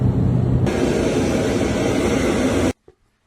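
Steady, loud airplane engine drone fills a passenger cabin for nearly three seconds, then cuts off abruptly, leaving near silence.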